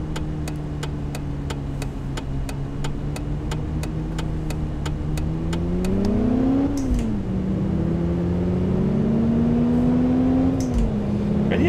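A default car engine hum from the City Car Driving game, a steady low drone that rises and falls as the car accelerates and shifts, accompanied early on by a regular ticking like an indicator.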